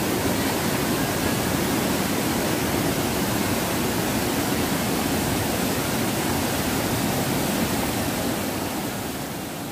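The Curug Aren waterfall, pouring among large boulders and trees into a shallow river, makes a constant dense roar of rushing water that stays steady and loud throughout.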